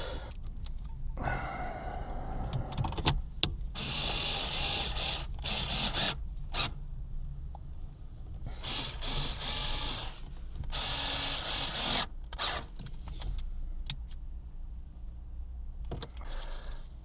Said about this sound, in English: Let's screw it all back in and put the trims back on.